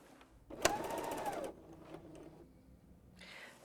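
A Bernina L 660 overlocker sewing a rolled hem gives a short, faint run of rapid mechanical stitching, starting with a sharp click and fading into quieter whirring.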